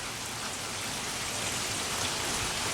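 Rain falls steadily in Middle Tennessee, a dense, even hiss of drops spattering on surfaces with no breaks and no talk.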